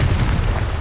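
A Confringo fire blast spell explodes in the video game Hogwarts Legacy, a short loud booming rumble with a dull, sustained low-end roar and no voice.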